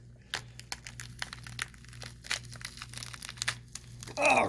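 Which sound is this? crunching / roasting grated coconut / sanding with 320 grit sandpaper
crunching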